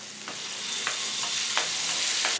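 Chukka kura (sorrel leaf) chutney stirred in a hot pan, a steady loud sizzle broken by regular spoon scrapes about every half second.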